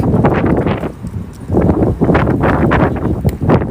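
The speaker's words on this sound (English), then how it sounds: "It is incredibly windy here." Loud, gusty wind buffets the microphone in rough bursts outdoors in Pawtucket, Rhode Island, with a brief lull before roaring back strongly.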